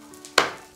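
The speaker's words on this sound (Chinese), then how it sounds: "牛肉切坨坨。" A single knife chop through beef on a cutting board, one sharp close strike that dies away quickly in a quiet kitchen.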